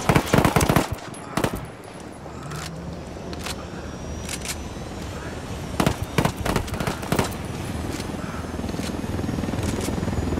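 Bursts of automatic gunfire in the video game Ghost Recon Wildlands: sharp clustered volleys near the start, scattered single shots, then another rapid string around the middle over a steady engine-like drone, with faint voices underneath.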